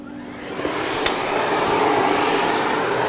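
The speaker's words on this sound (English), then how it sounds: "Once the brush is clicked into position, you can start vacuuming." A water vacuum cleaner fitted with a soft parquet brush runs on a hard wooden floor, a steady close-up motor whine and airflow rush that builds slightly at the start and holds level, with no talking.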